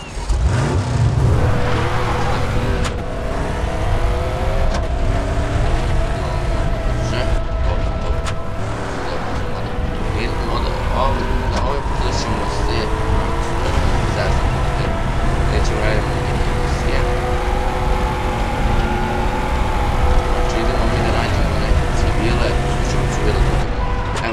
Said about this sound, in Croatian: Ovo je neki izgleda brzo auto.